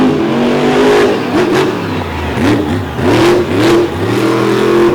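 A monster truck engine, a high center of gravity V-cradle truck with a long four-link built by Jim Kohler in 2008, revs loudly in repeated rising surges at an arena show, continuous and close.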